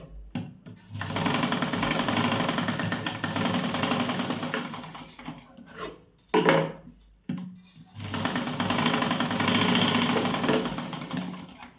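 A sewing machine runs in long steady bursts as it stitches tucks on a blouse, with a brief pause and a few clicks of handling before the close, even whirring resumes.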